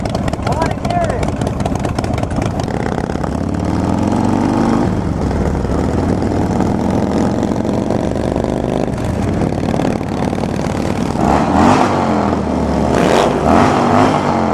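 Indian motorcycle engine at a demo day, a continuous rumbling drone with rising and falling revs, heard close up with people talking over it.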